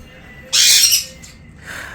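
A pet bird lets out a loud, harsh squawk close by, followed after a pause by a second shorter squawk.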